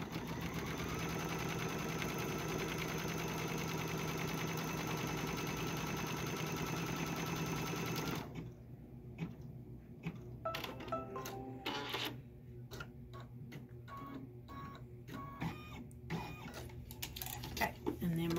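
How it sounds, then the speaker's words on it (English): An embroidery sewing machine stitching a placement line along the top edge of white fabric, first a steady mechanical hum, then a fast run of rhythmic needle clatter and clicks after a pause, close, with a person talking over parts. "it's going to stitch a placement line along the top edge of that white"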